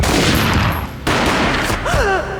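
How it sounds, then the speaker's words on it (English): Gunfire in the 2001 Max Payne game, a loud burst of shots and booms under a dense music and effects bed, followed by a wavering synthetic tone. "A gunshot boomed and she fell down in slow motion."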